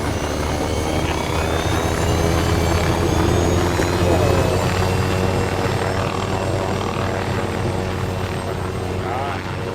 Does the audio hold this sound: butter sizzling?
no